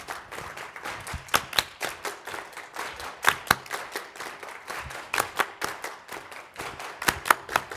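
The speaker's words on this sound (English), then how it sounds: "let's clap the 8th notes really loud, but the quarter notes softer" A group claps an eighth-and-quarter-note rhythm, loud eighth notes alternating with softer quarter notes, a steady pattern of sharp, evenly spaced claps with accented peaks, close and without talk.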